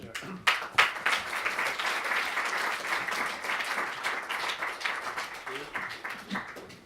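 Sustained applause from an audience, a dense wash of clapping that swells early and carries on steadily, with a few voices mixed in.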